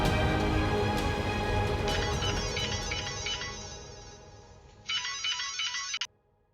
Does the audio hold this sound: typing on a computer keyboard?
no